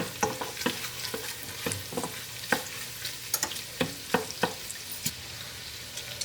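Bacon sizzling in a pot as its fat renders out for clam chowder, a steady close frying hiss dotted with sharp pops and crackles, plus light stirring clicks, no talking.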